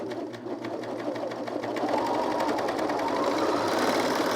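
A sewing machine stitches along a knit neckband edge, a fast steady mechanical whirr that rises slightly as it gets going, close and continuous with no speech.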